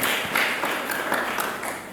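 Church congregation clapping during a sermon, a brief patter of applause that fades over two seconds, with no voices over it.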